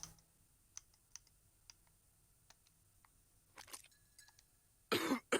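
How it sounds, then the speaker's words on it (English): Someone has a coughing fit in a quiet room. Faint clicks and small noises come first, then a few rough coughs, ending in one loud, harsh burst. "Yes, you're having a coughing fit."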